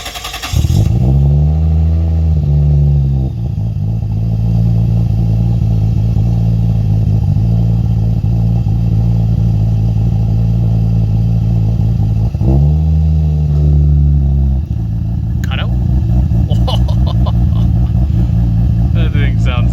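Toyota 2JZ engine in a car revving hard and loud up close, two long surging rev pulls with a steady throaty idle between, while voices talk over it.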